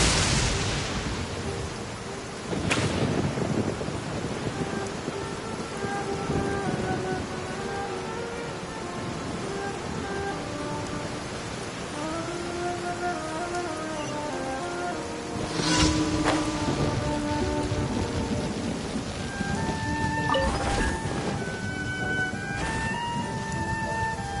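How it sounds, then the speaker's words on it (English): Steady rain in Genshin Impact, a broad continuous hiss with a couple of sharp thunder-like cracks, while soft musical tones play throughout. "I love listening to the rain from the courtyard"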